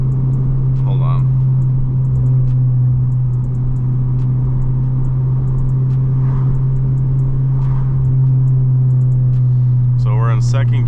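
A Honda Civic Type R engine drones steadily in second gear at moderate revs, a loud constant in-cabin hum with brief voices speaking over it near the start and end.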